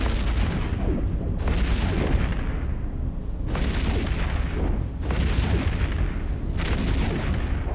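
Barrage ammo fires from the Cynabal angel cruiser's weapons in EVE Echoes PvP combat, a loud, continuous run of heavy booming volleys with fresh bursts about every one and a half seconds.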